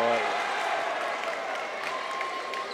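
Basketball crowd cheering and applauding after a player's dunk in a boys high school game against Whiteland, a steady loud roar filling the gym with a commentator's voice running underneath.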